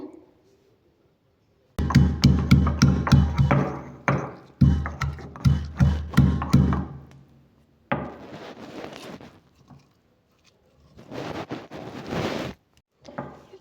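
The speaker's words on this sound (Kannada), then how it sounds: "ಇವಾಗ ನಾನು ಈ ಕಲ್ಲೊಳಗಡೆ ಹಾಕ್ಕೊಂಡಿದ್ದೀನಿ ಇವಾಗ ಇದನ್ನು ಕುಟ್ಟಬೇಕು" Black peppercorns pounded in a stone mortar at home, a close run of sharp, rhythmic thuds in bursts with short pauses between.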